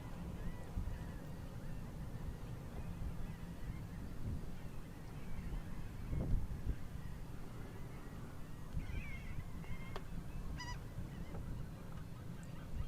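Seagulls call along a bay on the Texas coast, faint and distant, with a few scattered honking cries over a soft, steady background of water and outdoor ambience.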